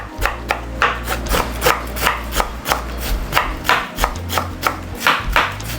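A knife slices a quarter of a cabbage on a board in a steady, even rhythm of crisp cuts, close and loud, with no talking.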